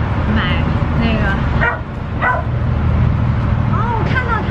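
A dog inside a car with its windows left open gives short barks and yips, mixed with people talking nearby and steady background noise.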